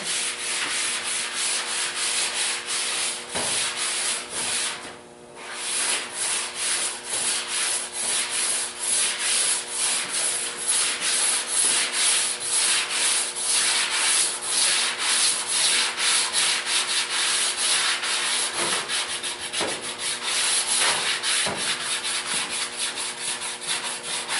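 Sandpaper on a hand sanding block rubs in steady back-and-forth strokes, a continuous close scratchy hiss with one brief pause, alone with no talk.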